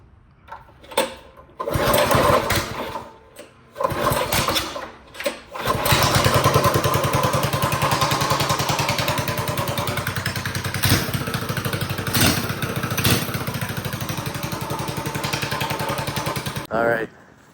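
A Predator Ghost 212 engine on a repainted drift kart is pulled over in a few short sputtering bursts, then fires up and runs in a loud, steady close-up drone, with brief revving blips before it cuts off.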